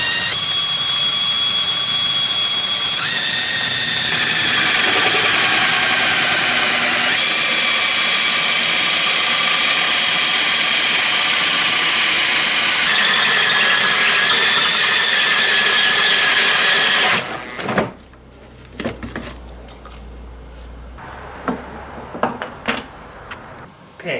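A power drill bores a hole during the building of a wooden boat, its high motor whine running loud and continuous with a few pitch shifts before cutting off, leaving quieter handling noises afterward.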